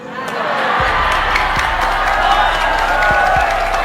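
A sermon congregation in Indonesia bursts into clapping and cheering, a crowd roar with shouts that swells in quickly and stays loud and full throughout, with no speech over it.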